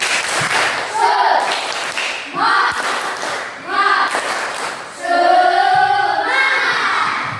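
Fifth-grade pupils in a classroom do a rhythmic clapping chant, with patterned group claps and thumps mixed with chanting voices throughout.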